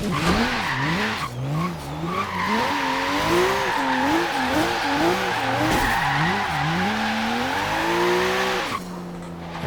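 A wheelie buggy build in Forza Horizon 3 screams along with its engine wavering and pitching up and down as the tires squeal and skid through traffic, loud and close, before the revs settle toward the end.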